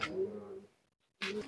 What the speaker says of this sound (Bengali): কবুতরগুলো খুব ছটফটে, হাতে রাখা যায় না সহজে